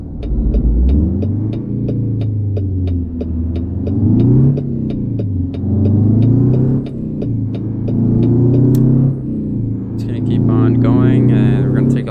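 Ford L-Series 8000 truck engine in American Truck Simulator, a loud low throbbing diesel drone that rises and falls with revs through repeated gear changes, with a short hiss near the end.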